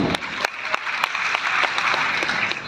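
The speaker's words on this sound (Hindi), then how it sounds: "आपके लिए मैं तालियां मारता हूं।" A speaker at a motivational talk in a resort hall claps for his audience. Individual sharp hand claps stand out at an uneven rhythm over a lighter patter of other people clapping, close and fairly loud throughout.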